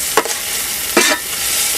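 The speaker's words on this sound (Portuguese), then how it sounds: "aqui a gente tá dourando a cebola no óleo," Onion, green onion and garlic fry in oil in a pan with a steady close sizzle, broken by two brief scraping stirs.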